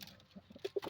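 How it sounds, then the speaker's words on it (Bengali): A Pilanka Madras pigeon coos in a loft, giving two short, low, soft coos close together near the end of a quiet moment. "আমাদের পিলাঙ্কা পায়রা ছিল"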